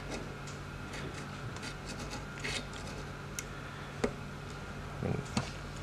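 A small file cuts a string slot in a guitar nut with slow, faint, even rubbing strokes close by. A few light ticks are heard near the end.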